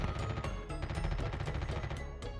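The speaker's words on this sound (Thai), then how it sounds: "น่าจะเป็นบอดยิงกันครับ" Bots trade rapid automatic gunfire in a Call of Duty Mobile battle royale match, dense bursts of shots crackling continuously at moderate volume.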